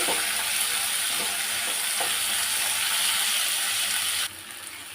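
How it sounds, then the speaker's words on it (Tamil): Tomatoes and onions saute in a hot pan with a loud, dense, continuous sizzle. Stirring scrapes run through it before the frying noise drops off near the end. "வெங்காயம் இந்த அளவுக்கு வதங்கினதுக்கப்புறம் தக்காளி கொஞ்சம் நல்லா வதக்கிட்டு"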